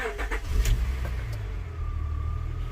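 A 1998 Honda Accord 3.0 engine firing up and running, loud catches and a rev at first, then settling into a steady low idle with a faint rising whine.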